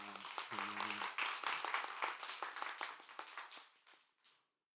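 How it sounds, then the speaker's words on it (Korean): Church congregation applauding children at a Holy Week special worship service, a dense crowd clapping that starts loud, mixes briefly with voices, then thins out and fades to silence. "우리 아이들에게 한번 박수로 또 격려해 주시면 좋겠습니다"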